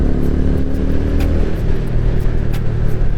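TVS Ronin 225 motorcycle engine running steadily in fifth gear, a loud, even mid-pitched drone that is close and continuous, with a slight change in tone partway through and no talking.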